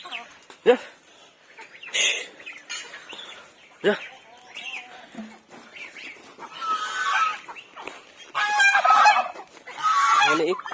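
Ducks quacking and honking in loud bursts, several calls overlapping near the microphone, with brief quieter gaps between.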